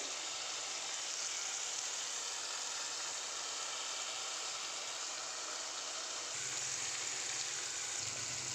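Okra with tomato sizzles and fries in a pan, a faint, steady hiss of frying that runs unbroken, with a low hum joining near the end.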